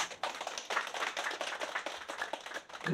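A group of departing workers flying to Malaysia claps together for a recruitment agency, giving a dense, fast patter of many hands that stays steady and close for a few seconds.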